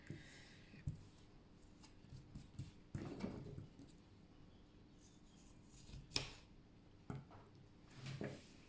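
Scissors snipping macramé cord for a dream catcher, a few quiet close cuts scattered among soft rustling of fibers, with no talking.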